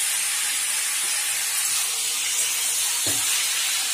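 Sliced onions frying in hot oil for beresta give off a steady, dense hiss at close range, with a single soft knock near the end and no voices.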